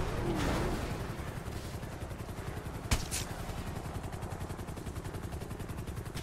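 Steady, rapid automatic gunfire in GTA V rattles at moderate volume through a tense shootout, with a sharp single crack standing out partway through.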